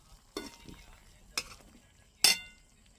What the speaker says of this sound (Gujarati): સરસ હલાવીને આપણે પકવી નાખશું।